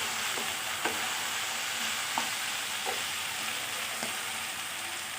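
Onion and garlic fry with drumsticks in a pan, a steady hiss of sizzling throughout with a few soft clinks and scrapes from stirring, close and moderately loud.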